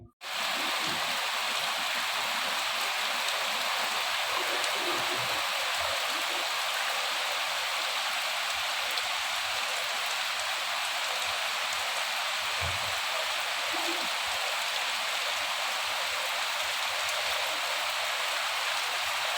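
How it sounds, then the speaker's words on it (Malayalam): Heavy rain pours down in a dense, unbroken hiss over a village in Kerala, steady and enveloping for the whole stretch, with occasional faint knocks underneath. "നല്ല മഴ പെയ്യുന്നുണ്ട്"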